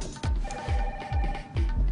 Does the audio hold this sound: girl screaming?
no